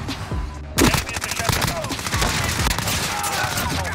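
An MP5 submachine gun fires in Call of Duty Modern Warfare, a fast, close burst of automatic shots that carries on steadily after a short pause at the start.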